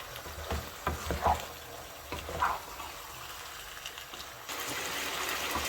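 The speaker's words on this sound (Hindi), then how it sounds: "तो देखिए इसका कलर चेंज होने तक मैंने इसको फ्राई किया है।" Chicken pieces fry in a tawa pan with a soft, steady sizzle and a few clinking stirs near the start, quiet and close, with no talking.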